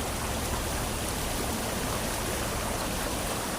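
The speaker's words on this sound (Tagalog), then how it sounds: "Nagsasanga po mga kababayan dito ang sapa." A creek splits into branches and flows over slippery rocks, giving a dense, steady rush of water that fills the whole moment without pause.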